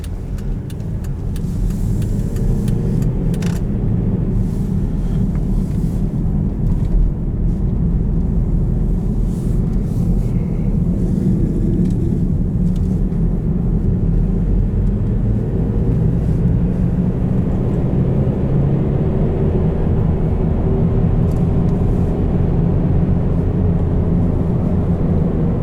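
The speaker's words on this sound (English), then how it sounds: "If you ever wondered how loud studded tires are" Loud, continuous road roar from studded tires on pavement inside a moving 2016 Volvo S60 Cross Country, a steady gritty rumble with engine hum underneath and no talking.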